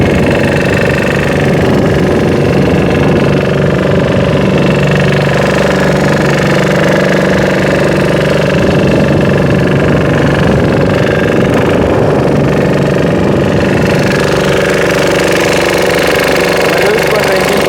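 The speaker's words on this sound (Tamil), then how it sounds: "ஒரு நாள் ஃபுல்லாகவே இந்த லம்பாடி இன்ஜினோட நாங்கள் சவுண்டோட தான் தொழில் பார்க்க முடியும்" Lambadi diesel engine of a shrimp-fishing boat working a salanga net, running steadily and loud with a heavy continuous drone and rumble throughout, close by.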